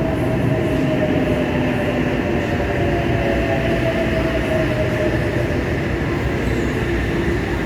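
A Tangara train arrives at underground Town Hall station in Sydney with a steady, loud rumbling roar and faint squealing tones from the wheels, echoing in the enclosed platform.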